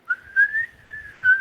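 A person whistles a sustained, wavering tone to imitate wind rushing past, swelling and dipping in three breathy surges over a faint low rumble.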